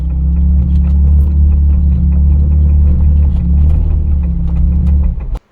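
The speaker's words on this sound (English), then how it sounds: "Now just take the vehicle for a spin around the pasture." A vehicle with a locked front axle drives across a pasture with its steering turned hard over, a loud, steady engine rumble holding close before cutting off abruptly at the end.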